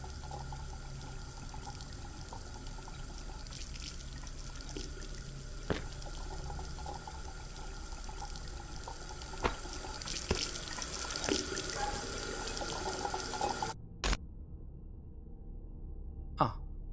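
In the video game Beside Myself, a tap runs with a continuous splashing rush of water and a few small knocks, then the flow cuts off abruptly near the end, leaving near silence.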